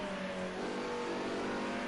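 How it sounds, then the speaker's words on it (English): A Group A touring race car at Donington Park holds its engine on the rev limiter, a steady loud buzzing drone with a slight pitch shift and no break. "buzzing the limiter"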